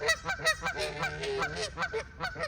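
Several ducks honk close by in quick, overlapping bursts, a busy run of nasal calls that goes on without pause and with no talk.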